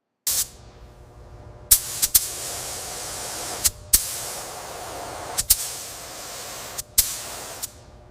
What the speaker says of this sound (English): Carefully spray the corners, bolt clusters, and weld seams.